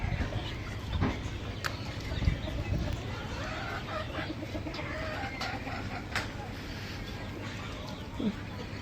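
Free-ranging chickens clucking in a rural outdoor flock of around forty to fifty birds, steady scattered calls over continuous background noise, with occasional voices nearby.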